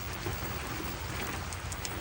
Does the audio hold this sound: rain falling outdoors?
yes